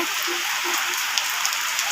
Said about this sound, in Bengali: এখানে অনেকটাই শান্তশিষ্টভাবে বৃষ্টি হচ্ছে